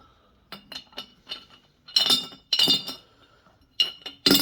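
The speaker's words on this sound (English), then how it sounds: "I'm going to try to drop them in there without breaking the glass." Shiny, heavy metallic crystals clink one after another into a glass extraction vessel, sharp ringing taps that start light and scattered, then grow into louder rattling clusters as more pieces fall in, close up and without talk.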